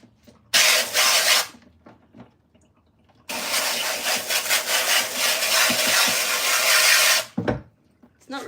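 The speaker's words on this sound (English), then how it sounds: "I have to spray it first" A handheld spray bottle mists a plant during pest treatment, giving a short hiss of about a second, a pause, then a longer steady hissing spray lasting around four seconds, close and fairly loud.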